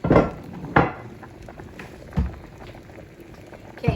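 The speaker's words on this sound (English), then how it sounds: "now the potatoes are boiling" Potatoes boil in a pot in a home kitchen, a soft continuous bubbling hiss broken by a few sharp knocks and clatters of utensils and cookware nearby.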